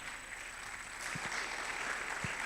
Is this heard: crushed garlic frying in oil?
no